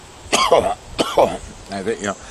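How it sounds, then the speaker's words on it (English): Three short, harsh coughs spaced about a second apart, close by, with the last one softer and more throaty. "So I got a cough."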